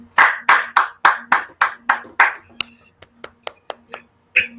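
A small conference audience claps after a talk on CO2 capture and conversion, about a dozen distinct, close hand claps in an uneven rhythm that thin out into a few scattered, sharper claps.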